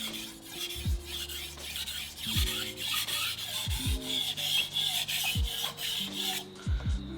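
Stainless steel knife blade drawn across a whetstone in steady repeated strokes, a close scraping rasp with soft thuds marking each pass, about six passes in a regular rhythm with no talking.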